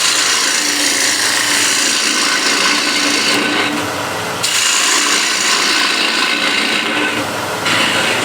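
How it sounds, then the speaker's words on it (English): A wooden hexagon plate is hollowed out with a loud, steady abrasive grinding and rasping that runs without a break, dipping briefly twice before carrying on close up. "now I want to hollow this out"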